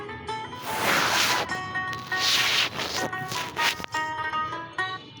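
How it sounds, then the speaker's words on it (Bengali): Hyacinth bean seeds being stirred briskly with spices in a pan while cooking fish, giving loud scraping and rubbing strokes in quick bursts, close and alone. "আমি মশলার সাথে শিম বিচিটাকে ভালো করে কষিয়ে নিচ্ছি।"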